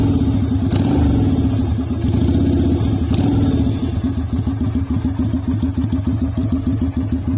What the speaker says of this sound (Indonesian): Suara knalpotnya enak